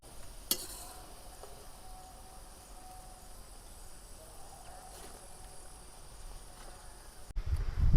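Pakoras frying in oil as prasad, cooked outdoors by a riverside in a forest: a soft, steady sizzle, faint and continuous throughout, with a sharper noise near the end.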